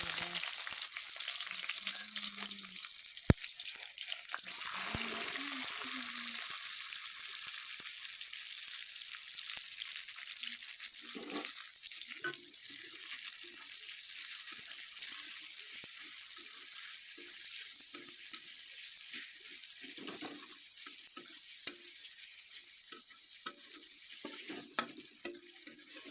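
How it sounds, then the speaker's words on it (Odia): Onion frying with cumin seeds in hot oil, a quiet, even sizzle with occasional stirring clinks and a louder burst near the start, no talking. "ତେଲ ତାତିଲା ଜିରା ଫୁଟିଲା ପିଆଜ ପକେଇବା"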